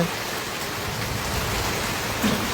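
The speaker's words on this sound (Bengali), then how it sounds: "কি পরিমাণ শিলাবৃষ্টি এখানে হয়েছে।" Rain from a hailstorm in Thakurgaon district, Bangladesh, pours down as a dense, steady roar of drops on surfaces, loud and unbroken, with no voices.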